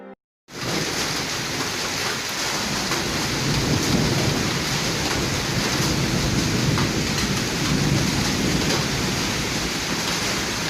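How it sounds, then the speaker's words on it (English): Heavy rain pouring down in a thunderstorm, a loud, dense and continuous roar with rolling thunder mixed in, starting abruptly after a brief silence and carrying on without a break. "it's like downpouring right now"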